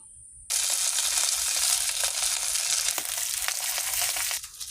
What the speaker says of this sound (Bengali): এই যে মাছগুলো ভেজে নেব